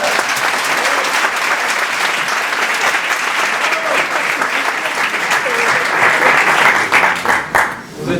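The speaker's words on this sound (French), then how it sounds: "J'ai un début d'applaudissement" A theatre audience at the Grand Point Virgule applauds before the show, a dense, steady wash of clapping that holds at one level, then thins and breaks up near the end.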